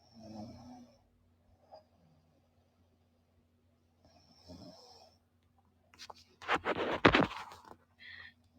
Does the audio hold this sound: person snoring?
yes